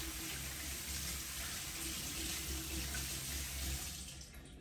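A cucumber is rinsed under running tap water, a steady close gush of water hitting the sink that eases off at the very end, with no speech.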